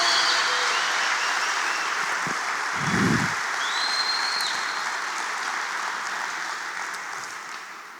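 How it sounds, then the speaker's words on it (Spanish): A church congregation claps in sustained, dense applause that holds steady for several seconds and then slowly fades, with one brief low thump partway through. "Ahora dele un fuerte aplauso a él."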